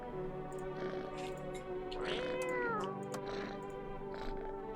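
A cat in the horror video game No I'm Not A Human gives one clear, drawn-out meow with a rising then falling pitch, close by, over a low droning ambient background.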